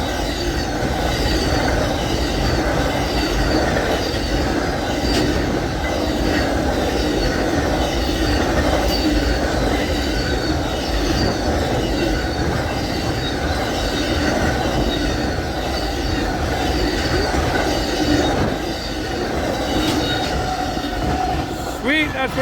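Amtrak Auto Train auto-rack car carriers roll steadily past close by, a continuous loud rumble with clattering wheels and occasional metallic squeals.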